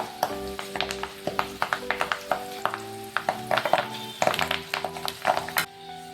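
Curry leaves dropped into hot oil for chivda give a steady sizzle, with a spoon scraping and clinking rhythmically against the pan throughout, close and moderately loud.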